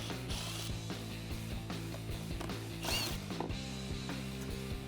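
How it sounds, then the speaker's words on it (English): A ratchet with a 10mm socket backs out the license plate bolts on the rear of a Jeep Gladiator JT, clicking in quick, close, repeated bursts of pawl ticks with short pauses between strokes. "So using that 10mm socket, I'm just going to remove the 2 bolts on top."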